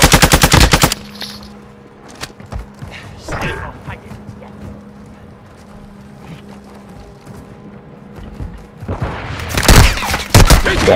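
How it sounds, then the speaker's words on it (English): Gunfire in a military shooter video game, with bursts of automatic fire loud at the start and end and scattered distant shots and thuds between, under a quiet stretch of ambient game noise. "Taking effective fire."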